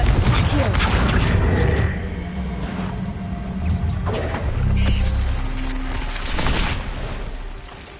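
Confringo explosive spells in Hogwarts Legacy, a heavy boom opening the clip followed by rumbling blasts and crashes with fainter detonations later, loud and close.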